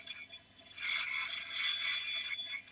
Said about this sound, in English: Here I'm using a chisel for rounding the piece